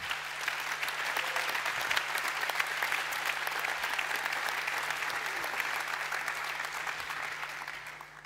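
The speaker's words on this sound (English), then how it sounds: "maybe it's a good thing just to make a big applause to the 21 mentors for this" A crowd at the S.Pellegrino Young Chef 2018 awards ceremony gives a long, even round of applause for the 21 mentors, with continuous dense clapping and a low steady hum underneath.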